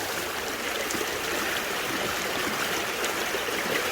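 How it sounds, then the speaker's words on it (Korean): Steady rushing water from a mountain stream in a valley at Surak Falls, Daedunsan, a continuous broadband wash with no breaks, close and fairly loud. "물소리 보이시죠?"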